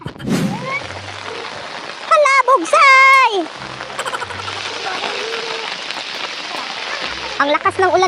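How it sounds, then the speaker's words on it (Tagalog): Heavy rain pours down in a dense, continuous roar during a fishing outing in San Miguel, Bohol, loud and close throughout, while voices briefly call out over it near the middle and end. "Ang lakas ng ulan mga kalab."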